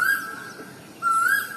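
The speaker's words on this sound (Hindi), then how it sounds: "कितना सुंदर बोल रही है ना कोयल।" An Asian koel sings in the morning, giving two clear rising whistled calls about a second apart, close and loud against a quiet background.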